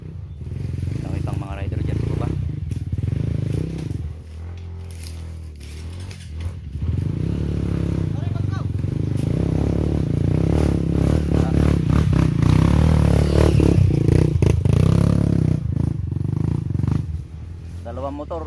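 Dirt bike engines roar and strain while climbing a steep, rocky mountain trail on Mt. Paldingan, loud revving with clattering and scraping over stones, people talking over the engine noise throughout.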